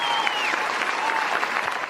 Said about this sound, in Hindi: मंत्री जी के सम्मान में जोरदार तालियां बजा दीजिए।